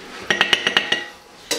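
A spoon clinks against dishes in six quick, bright metallic taps, close and crisp, followed by a short pause and one last clink, with no voices heard.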